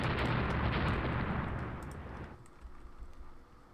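A torpedo strike explodes against a warship in the naval strategy game Rule the Waves: a loud, dense rumbling blast that fills the opening seconds, then fades into a lower, softer rumble with no talk.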